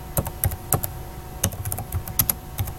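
Fingers tap on a computer keyboard while entering numbers into a spreadsheet, a close, moderately loud run of irregular clicks and keystrokes with brief gaps between them and no speech.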